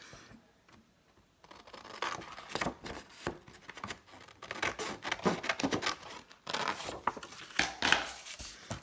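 Cardstock is cut along a score line while making a double pocket card: a run of close, crisp snipping and rasping cuts with short pauses, fairly quiet.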